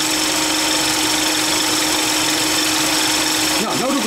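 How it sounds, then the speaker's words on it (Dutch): An engine idles steadily and evenly after an ignition timing adjustment, running rich, with a continuous close hum and a slight change in tone near the end. "Ik denk namelijk door de meting dat de motor heel rijk loopt."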